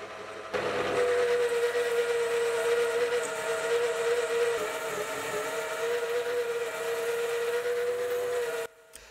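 Lathe turning an aluminium lens adapter flange down to about 72 mm diameter, with a steady whining motor hum and a sustained tonal cutting ring that runs unbroken for several seconds before stopping abruptly.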